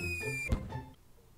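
A small toy firework rocket launches with one short, sharp whooshing burst. A thin whistle comes just before it, and a quieter fizz trails off afterward.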